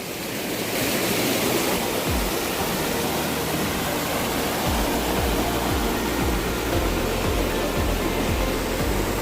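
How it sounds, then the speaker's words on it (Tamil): A waterfall in Ooty roars steadily and loudly, a dense, unbroken rush of falling water that holds constant throughout with no voices. "ஸோ வாட்டர் ஃபால்ஸ்லாம் பாருங்கள், செம்மையாக இருக்குது."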